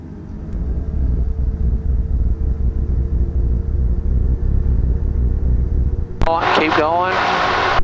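A gyroplane engine drones loudly and steadily as the throttle is raised, a low rumbling hum that runs almost throughout, with voices coming in near the end.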